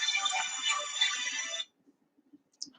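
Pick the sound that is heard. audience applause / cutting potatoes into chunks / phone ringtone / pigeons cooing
phone ringtone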